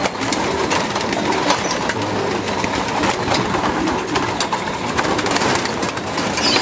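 Racing pigeons in a loft make a steady low cooing murmur, with a dense wash of bird noise throughout that sits under no talk.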